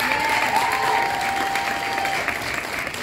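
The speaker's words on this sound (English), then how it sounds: "So let's give them a round of applause." A pageant audience breaks into continuous applause, a dense wash of many hands clapping at once that stays loud and steady with no clear speech over it.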